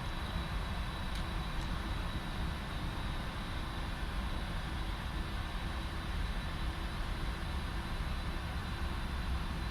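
Steady, broad engine roar of a Boeing 747-400F taxiing, with a continuous low rumble and faint high whine, constant in level throughout.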